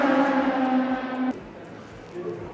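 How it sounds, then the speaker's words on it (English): Nissan Super Taikyu race cars on track at the NISMO Festival 2023 in Japan: a loud, sustained engine howl holds for over a second, then cuts off sharply to a quieter rumble with a faint engine rising again near the end. "this is how loud it gets when these cars are out on track"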